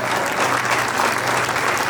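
A group at a school batch reunion party in Polepally breaks into brief, dense applause, a close and steady burst of clapping with no talk over it.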